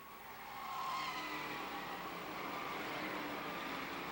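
A Limited Late Model stock car spinning out during a 2008 fall final feature at Stafford Speedway, giving a sustained tire squeal and skid with engine roar from the racing pack, fairly loud and steady throughout.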